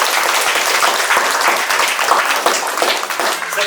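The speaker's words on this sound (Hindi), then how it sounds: "तो एक बार जोरदार तालियां बजाकर हम अपने आप को धन्यवाद देंगे।" A gathered crowd at the inauguration of a Mother Mary grotto in Karmatang, North and Middle Andaman, claps loudly together, with close, distinct hand claps forming a lively burst of applause.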